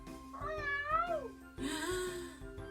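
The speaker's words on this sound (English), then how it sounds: "Yeah, it was a really big cat." A big cat gives two drawn-out, wavering meows, the second louder and harsher, close up with a quiet pause between them.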